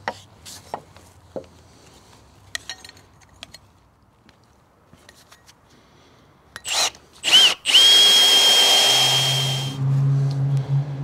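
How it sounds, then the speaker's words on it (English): A power drill bores holes in lumber for a shed floor, a sustained loud whine arriving near the end after scattered tool knocks and handling sounds. "We drilled all the holes a little oversized, so we have some room to get it squared up"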